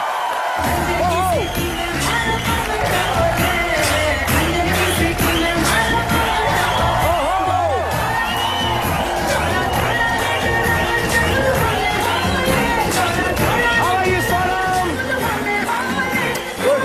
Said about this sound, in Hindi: प्लीज जोरदार तालियों से स्वागत कीजिए the very beautiful Sonam Kapoor and the very handsome Fawad Khan.